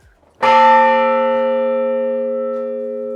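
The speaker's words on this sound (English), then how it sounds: "You want to hear the bell?" A single loud strike of a courthouse bell in a clock tower rings out after a brief quiet moment, its clear metallic tone sustaining and slowly fading.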